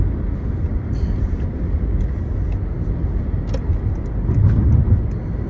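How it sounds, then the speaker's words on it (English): A big truck drives past on a narrow road as a steady, loud engine rumble and road roar, close by, heard from inside a moving vehicle with no talking. "Big ass fucking truck, little ass fucking road."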